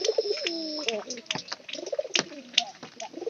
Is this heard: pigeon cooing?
yes